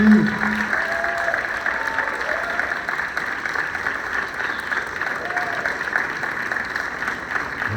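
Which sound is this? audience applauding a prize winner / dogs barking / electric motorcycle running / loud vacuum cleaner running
audience applauding a prize winner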